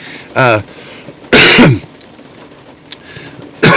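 A few loud, harsh coughs break out one at a time close to the microphone, separated by quiet pauses.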